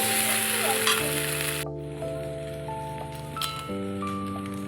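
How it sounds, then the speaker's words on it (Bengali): Small potatoes fry in oil with a dense, rain-like sizzle that is loud at first, then drops suddenly to a quieter crackle, while a steady tonal hum runs underneath; no one speaks. "আলুটাকে বেশ একটু লাল লাল করে ভেজে নেব।"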